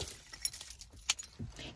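Keys jangle with a few bright metallic clinks and rattles inside a camper van parked by the beach at night, close and fairly quiet, heard on their own.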